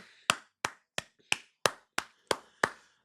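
A single person clapping, eight sharp, close claps in a slow, slightly uneven rhythm with brief pauses between them.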